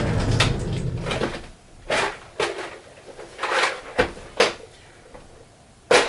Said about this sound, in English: Opening closet door.